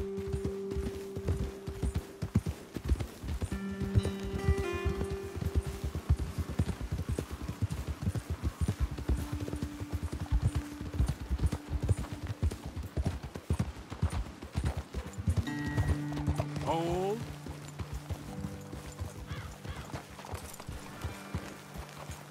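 Continuous rhythmic clip-clop of horse hooves trotting in the video game Red Dead Redemption 2, with a few tonal musical notes and a brief whinny-like rising sound near the end.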